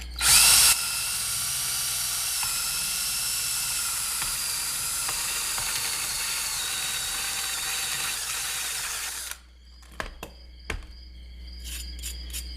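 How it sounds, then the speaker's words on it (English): A power drill whines loudly and steadily for several seconds as it bores through a guitar pedal box enclosure, then stops, followed by a few sharp clicks and knocks. "So we'll drill this one out next."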